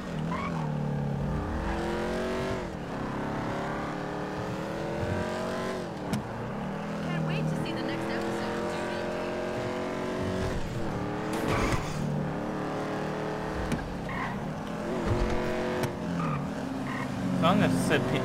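A car in the video game GTA 5 driving hard with a steady, continuous engine drone and tire squeal throughout, while a person talks over it.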